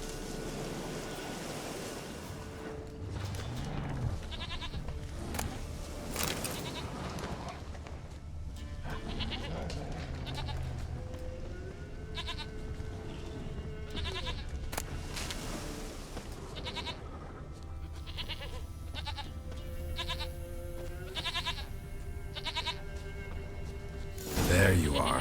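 Goat bleats from The Witcher 3: Wild Hunt in Velen, several short calls scattered through continuous game ambience with faint surf, and a voice speaking at intervals.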